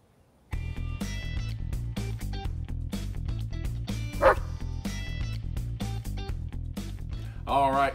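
A dog barks and yips in rapid bursts close by, with a whimpering note near the end, while music plays steadily underneath throughout.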